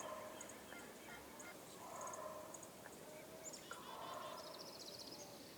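Wild Rio Grande turkeys gobble outdoors at a distance during a spring bow hunt, several bursts of gobbling spread across the clip and heard faintly over steady background noise with scattered songbird calls.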